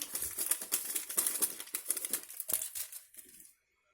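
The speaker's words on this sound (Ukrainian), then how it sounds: "Пакетик ванільного цукру." A paper packet of vanilla sugar torn open and emptied in a kitchen while mixing a cheese filling for a braided cake; close crinkling and rustling for about three and a half seconds, then silence.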